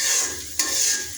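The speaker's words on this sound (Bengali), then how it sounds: "এবার সুন্দর করে একটু নাড়াচাড়া করে নেব," Onion, garlic and chili being stirred as they fry in oil, a brief close sizzle with a scraping stir in the middle, no voices.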